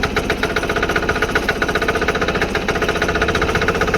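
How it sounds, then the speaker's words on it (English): A 6 hp diesel engine on a Sears Suburban loader idles close by with a loud, steady, rapidly knocking chug and no voices. "I think she has some power with the diesel on there"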